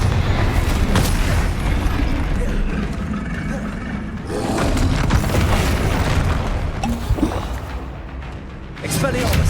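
Confringo blast spells exploding in Hogwarts Legacy combat against a troll, dense loud booms and rumbling impacts layered over continuous battle noise, with voices calling out amid the action.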